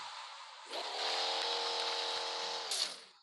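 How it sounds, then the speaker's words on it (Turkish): A car in the video game Car Parking Multiplayer pulls away, its engine note rising into a steady, fairly loud drone for a couple of seconds before easing off, with no talking over it. "Araba gidiyor."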